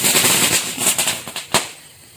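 Firecrackers burst at a home Diwali celebration, several sharp cracks in quick succession followed by a single loud pop, fairly near with no talking.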